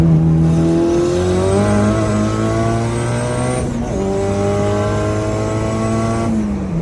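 A turbocharged B18C-swapped EG Honda Civic hatch accelerates hard, engine tone climbing steadily through the revs, briefly dropping at a gear shift before rising again in a loud, close, continuous pull.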